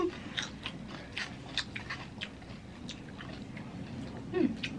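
Crunchy pickle being bitten and chewed up close, a series of sharp wet crunches and smacking chews at an irregular rhythm, fairly quiet, with no speech.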